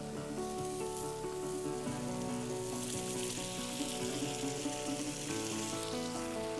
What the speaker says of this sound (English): Let's get it flat for a second and drop our 3-minute steaks.